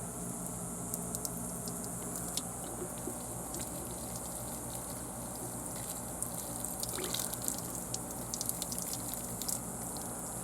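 Water from a hose or watering can soaking potted caudiciform plants such as Adenium, Pachypodium, Bursera, Cyphostemma and Pseudobombax ellipticum: a soft, constant trickle and splash with scattered drips and pattering as it drains from the pots, and no one talking.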